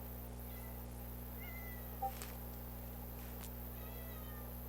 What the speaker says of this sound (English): You might not be able to hear her well, but she's actually meowing.